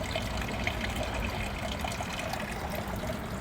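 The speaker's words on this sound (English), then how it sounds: "Listening to the water fountain." A water fountain trickles and splashes steadily in a continuous outdoor wash, fairly close, with no talking.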